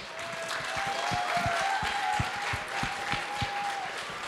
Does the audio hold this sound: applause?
yes